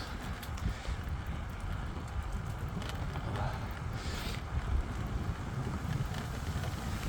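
Steady wind rushing over the microphone during a wet, windy bike ride, a constant low buffeting roar with no clear breaks throughout.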